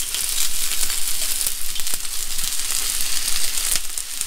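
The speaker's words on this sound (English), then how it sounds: "Now we're putting the onions. I'm gonna put some garlic," Onions and garlic sizzle steadily in a hot wok for Pad Thai, a loud, continuous hiss of frying with faint scrapes of stirring, and no talking.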